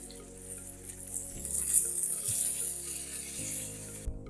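Water is poured into a hot pot of tomato-paste base over a camping barbecue, raising a steady, moderate hissing sizzle that lasts throughout before cutting off abruptly at the end.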